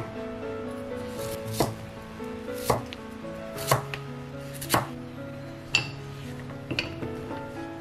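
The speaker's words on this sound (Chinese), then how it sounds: "再给它切成5厘米的薄片" A knife slices a peeled sweet potato into thin pieces, with about seven sharp chops striking the board at a slow, even pace, near and distinct over a quiet background.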